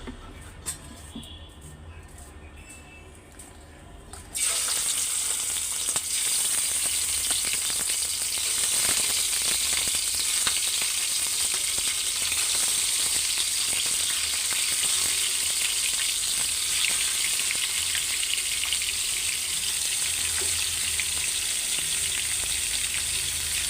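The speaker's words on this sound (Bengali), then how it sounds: "মুরগির মাংস আর আলুটা কড়া করে সুন্দর করে ভাইজা নিছি" Chicken and potatoes fry without spices in a hot wok for a home-cooked biryani, giving a loud, steady sizzle that starts abruptly and carries on continuously, with occasional stirring scrapes over quieter kitchen noise.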